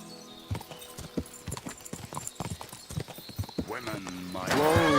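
Horse hooves clip-clop in a steady rhythm in the video game Kingdom Come Deliverance, set in medieval Bohemia, close and clear under speech, building toward a louder burst at the end.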